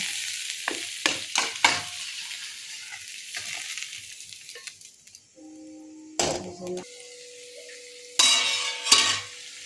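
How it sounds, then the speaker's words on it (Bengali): Potatoes and drumstick pods stir-fried in a pan for a Bengali vegetable dish: a spatula scrapes and stirs in quick bursts over a low sizzle, with metallic clinks and brief louder scrapes near the end. "ভালো মতন আলু আর ডাটা ভাজা হয়ে গেছে"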